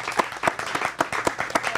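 Audience applause in a hall, a brief burst of many hands clapping in quick, dense rhythm, close and steady for under two seconds.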